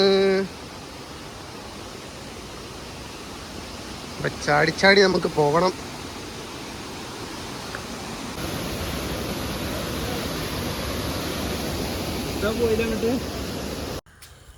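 Steady broadband rush of flowing stream water in Palakkad, Kerala fills the whole clip, with a person speaking briefly over it partway through and again near the end.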